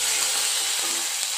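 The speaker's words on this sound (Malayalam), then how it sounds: "അടുത്തത് ചതച്ച് വെച്ച ഇഞ്ചി, പച്ചമുളക്, പിന്നെ പച്ചച്ചുവ മാറുന്നത് വരെ വഴറ്റിയെടുക്കാം." Crushed ginger, green chili and curry leaves sauté in a pan for idli masala, making a brief, even, close hiss that stays bright and steady throughout.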